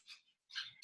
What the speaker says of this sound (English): That's just my dog making some noises.